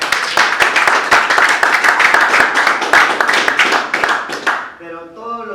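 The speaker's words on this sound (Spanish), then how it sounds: "Un aplauso a Dios." A church congregation at a Spanish-language service breaks into applause, a dense, loud run of clapping lasting several seconds before it dies away and a voice comes in.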